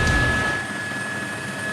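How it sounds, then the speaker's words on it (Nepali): A Nepal Army helicopter on relief and rescue work over a flooded area gives a steady, droning rotor and engine rumble that eases slightly after a stronger start, heard alone for under two seconds. "नेपाली सेनाको हेलिकप्टरले यो बेत्रावती क्षेत्रमा राहत वितरण र उद्धारको कामहरू गरिरहेको यो दृश्य हो"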